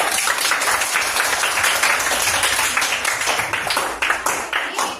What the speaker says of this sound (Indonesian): Nah, tepuk tangan buat itu